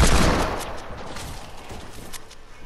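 Shotgun blasts in a video game, a loud close burst at the start fading into a rattling tail of further rapid gunfire, with no voices.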